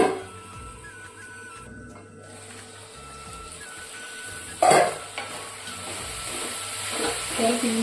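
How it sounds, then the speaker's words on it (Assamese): Duck meat fries in a pan with turmeric, salt and ginger-garlic paste, giving a steady close sizzle with a louder burst of stirring and scraping partway through. "আজি হাঁহটো পূৰা ধুনীয়াকৈ ফ্ৰাই কৰোঁ, মানে বিনা মছলাত"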